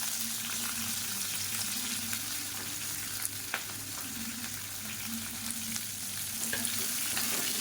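Green chillies and chopped onions sauté in hot oil in a pan, a steady close sizzle and frying hiss running continuously with a few faint clicks of stirring, no voices.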